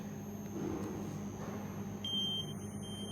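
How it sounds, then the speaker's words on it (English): An air purifier's buzzer warning of hazardous air quality: a single thin, high electronic beep starting partway through, held for about a second over a steady low machine hum. "the buzzer also started beeping"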